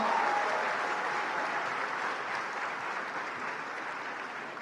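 Audience applause at a literature festival, a dense steady clapping from a large crowd that fills the whole stretch at even loudness and eases off slightly toward the end, with no speech over it.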